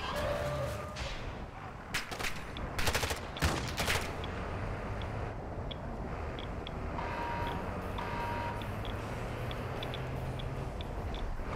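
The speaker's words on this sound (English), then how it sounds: "Just them shooting us." Enemy gunfire in the shooter game DMZ, a few sharp loud bursts early followed by fainter distant shots and crackles spread across the rest, with no talking.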